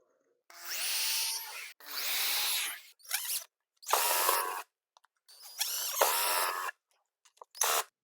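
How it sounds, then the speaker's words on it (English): A power drill whines in several short bursts separated by pauses, pre-drilling into a wooden door for a deadbolt with a high, grinding buzz, close by. "I'm going to mark my spots, and then I will pre-drill"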